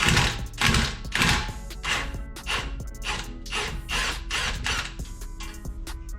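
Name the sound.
impact wrench with impact socket breaking bolts free on Mk4 GTI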